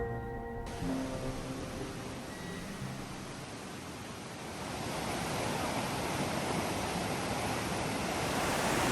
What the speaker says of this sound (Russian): Слышите шум воды?